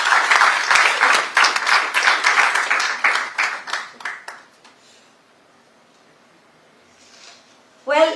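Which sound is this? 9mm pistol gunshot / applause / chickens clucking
applause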